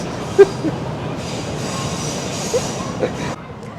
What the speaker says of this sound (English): We're having far more cargo trains than I ever imagined we would.